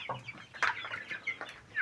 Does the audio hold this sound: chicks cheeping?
yes